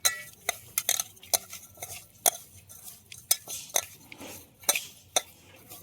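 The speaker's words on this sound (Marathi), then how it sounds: "आता हाताने एक वेळ मिक्स करून घेऊ" Chicken curry pieces being mixed by hand with ginger, garlic, chili powder, turmeric and salt, dhaba style, giving a run of sharp, irregular clicks and wet squelches close up, alone with no talk.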